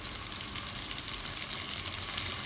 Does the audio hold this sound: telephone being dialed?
no